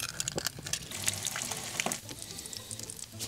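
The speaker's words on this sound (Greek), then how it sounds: "Θα τηγανίσω και 2 αυγά." Two eggs frying in a pan over a gentle flame, with a steady close crackle and sizzle and small sputtering pops that keep on throughout, no voices over it.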